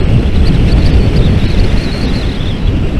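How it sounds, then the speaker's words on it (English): Loud, steady wind buffeting a microphone on a windy day in the Lake District, a continuous low rumble with gusty roughness throughout and no other sounds. "It's a bit of a windy day today"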